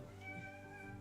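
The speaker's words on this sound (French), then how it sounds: "C'est un chat." A cat meows faintly, drawn out and steady over about a second, set low against a quiet background.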